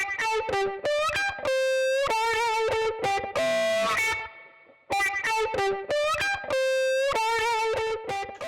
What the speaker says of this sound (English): Higher levels will drive the distortion harder